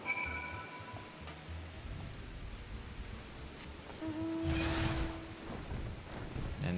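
Rain and rolling thunder in the Final Fantasy XIV video game form a steady broadband wash, with low rumbling throughout and a louder swell midway. Faint tonal game sounds ride on top, and no one talks.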